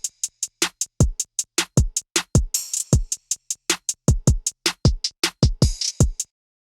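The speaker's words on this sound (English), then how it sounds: "So with the tambourine, the drum beat sounds like this" A punchy programmed drum groove with booming kicks and a bright tambourine shake on some beats, looping steadily before stopping suddenly.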